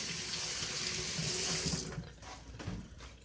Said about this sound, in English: That's good hand washing.